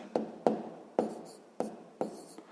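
A pen scratches across paper while working a sixth-grade math exercise, five crisp close strokes spaced about half a second apart, with no talking.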